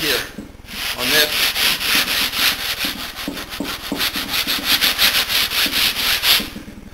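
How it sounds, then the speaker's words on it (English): Rhythmic back-and-forth sanding scrapes across the wooden front and back panels of an electric guitar body, loud and close, with regular strokes continuing for about seven seconds. "do a little preliminary sanding on the front and the back panels and collect the dust"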